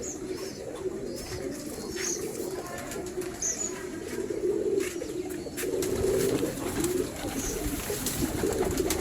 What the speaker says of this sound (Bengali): আমি আজকে আপনাদেরকে সেই কবুতরের খামারটি দেখাবো